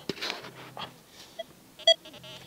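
A metal detector searching on a Baltic beach at Stegna gives a few short electronic tones of varying pitch, including one louder clear beep near the end, with no talking.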